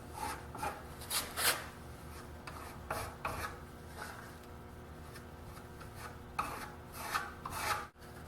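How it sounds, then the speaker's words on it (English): Cream-hardened wood filler being pressed and scraped into holes in wood, a series of short raspy scrapes in uneven bursts, close and fairly quiet with no talking. "And I'm going to shove these full of filler."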